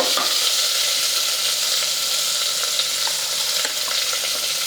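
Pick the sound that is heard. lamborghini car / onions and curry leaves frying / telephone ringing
onions and curry leaves frying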